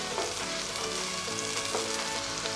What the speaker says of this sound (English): Adding in oil, chopped onion, and then saute them